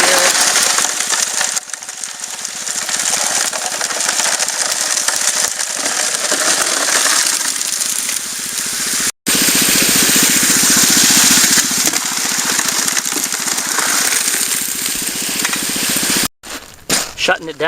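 Engine-driven pump on a highbanker running steadily during gold prospecting at an outside river bend, a loud continuous mechanical drone with rattling water and gravel, cutting out briefly twice near the end.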